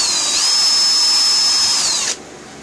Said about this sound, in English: just drill straight through.